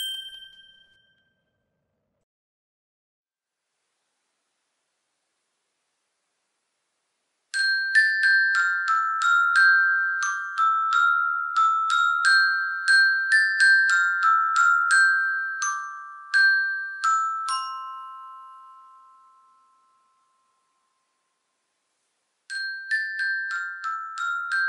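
A xylophone plays London Bridge Is Falling Down, with bright struck bar notes in a steady melody over two phrases, then a pause before the tune starts again, close and alone with no voices.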